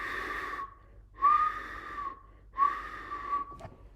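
A human voice imitates the wheezing whistle of air forced through a narrowed tube, like constricted bronchi: two sustained, slightly wavering whistled tones separated by short pauses, close and clear with no other sound.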